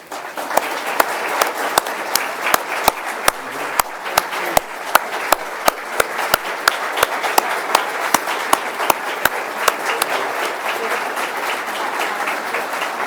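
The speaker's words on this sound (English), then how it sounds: "a round of applause for our school board members" Audience at a school board meeting applauds for school board members, a steady wash of many hands clapping for around thirteen seconds, with one or two sharp nearby claps standing out.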